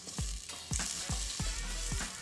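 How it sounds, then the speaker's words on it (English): Onions sizzle in oil in a pan for a vegan soup, a steady close frying hiss broken by regular scraping stirs about every half second. "we're gonna start by adding onions and some oil to the pan."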